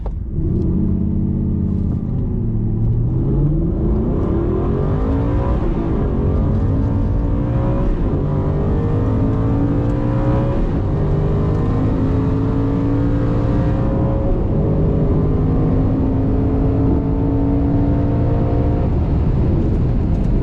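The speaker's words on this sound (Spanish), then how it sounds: "Vamos ahora con el 0 a 200." An Aston Martin Vantage N430 accelerates hard from 0 to 200 km/h, its engine roaring steadily as it climbs through the gears, revs sweeping upward with brief dips at each shift, loud and continuous from inside the car.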